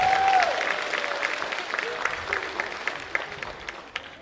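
Audience clapping at a school freshman orientation, a steady medium-loud wash of applause from a crowd that gradually tapers off over a few seconds.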